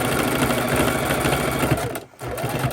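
A sewing machine runs a straight stitch at stitch length 2 through fabric potato warmers, a steady close, loud mechanical whir with a short pause near the end before it resumes.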